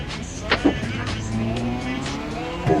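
In the GTA video game, a car runs hard through a turn with a sustained revving engine drone. Brief squeal-like bursts come and go, and the car stays at a fairly even level close up.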